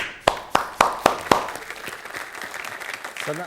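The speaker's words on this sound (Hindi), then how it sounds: "इन सब के लिए तालियां" Applause for children who survived cancer: five sharp, evenly spaced claps ring out clearly, then a softer murmur of scattered clapping and crowd noise that fades toward the end.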